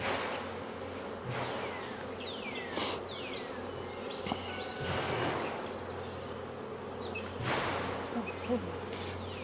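Honeybees buzzing around an open hive two weeks after splits, a continuous dense close drone with individual bees zipping past the microphone.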